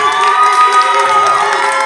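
An election night crowd cheers and whoops loudly, with many voices shouting and applauding together in a sustained, close burst.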